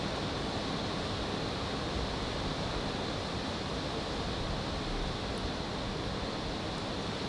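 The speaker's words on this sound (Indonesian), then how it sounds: "Iya, deras banget hujannya" Heavy rain pours in a dense, steady roar with no let-up, even and continuous throughout.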